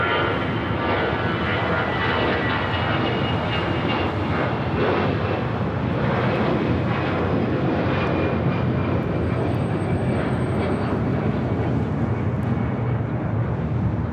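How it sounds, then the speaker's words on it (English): An Avianca airliner in retro livery takes off from LAX bound for San Salvador, its engines producing a loud, sustained roar that stays strong throughout. "This is the Avianca Laxa Retrojet taking off to San Salvador, Flight 523."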